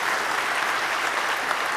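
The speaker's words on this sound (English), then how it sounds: "give a huge round of applause for this awesome talk," A crowd claps steadily after a talk on internet security, a brief, full burst of applause without talking.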